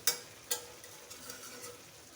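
Low steady sizzle of small fish frying with banana flower in a pan, opened by two sharp clinks of a utensil, then a quiet hiss and faint stirring.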